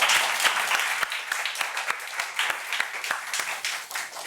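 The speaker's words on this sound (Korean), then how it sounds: "이 비전을 믿는 여러분들, 하나님께 영광의 박수 올려드리도록 하겠습니다." A church congregation applauding during a service, a dense, continuous crowd clapping with sharp individual claps standing out, fairly close and loud throughout.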